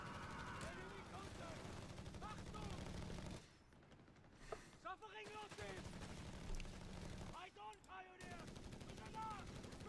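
Machine gun fire in the real-time strategy game Company of Heroes 3, with rapid rattling bursts under steady commentary, pausing briefly twice before resuming.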